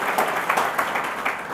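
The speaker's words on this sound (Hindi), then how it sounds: "तो एक बार तालियों की गड़गड़ाहट से केसर जी का" Thick, continuous clapping from an audience at an education event, welcoming Kesar Rao, in-charge of a second-grade teacher exam batch, loud and close with no speech over it.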